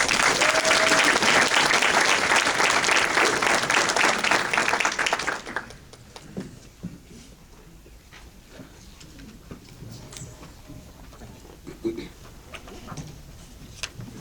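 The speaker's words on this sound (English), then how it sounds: "please join me and give a round of applause" Loud audience applause fills the first five seconds at an evening MLK Drum Major awards ceremony, then drops abruptly to quiet room noise with a few scattered sounds.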